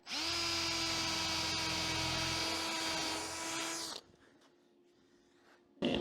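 A power drill whines steadily at high speed for about four seconds while drilling into rusty door metal for a weld repair, then stops; a brief burst of noise returns near the end.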